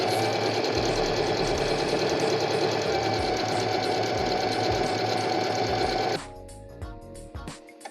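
A Singer Facilita Pro 4423 home sewing machine stitches at a steady fast rhythm, loud and close, with a dense continuous mechanical whir that stops abruptly near the end, leaving faint handling noises.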